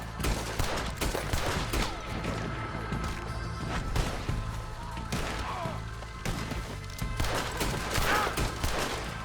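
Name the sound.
gunfire in a film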